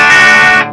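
Electric guitar, a Gibson Les Paul Lee Roy Parnell '57 Gold Top, played very loud through a 1967 Trainer amplifier: one brief, sustained, harmonically rich chord ringing alone, then cut off.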